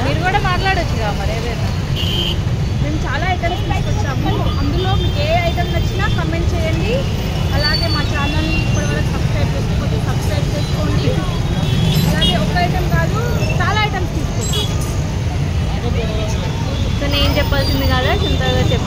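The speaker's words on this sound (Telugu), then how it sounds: "ఇక్కడ ట్రాఫిక్ అయితే చాలా దారుణంగా ఉంది" Heavy road traffic crawls through Begum Bazar, Hyderabad, a steady dense roar of engines with horns and voices over it; people talk nearby throughout.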